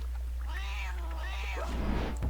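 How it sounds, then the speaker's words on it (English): A cat in the video game EverQuest 2 lets out two drawn-out, wavering vocal calls, close and fairly loud, followed by a rough noisy burst like a hiss at the end, with no talking. "that cat hissed at me"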